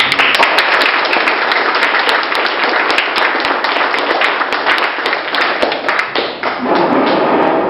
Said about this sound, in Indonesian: Jadi kita berikan tepuk tangannya.